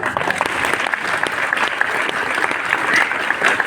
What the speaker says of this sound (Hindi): खाली ताली बजा दी